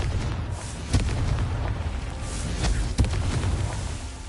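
Confringo fire spell explosions in the game Hogwarts Legacy, a dense rumbling blast with two sharper booming impacts about two seconds apart, loud and close.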